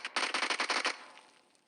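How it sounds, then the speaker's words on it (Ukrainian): A rapid burst of automatic gunfire in PUBG Mobile, about nine quick shots in a steady rhythm, then a short echoing tail as it stops. "Це він куди стріляє?"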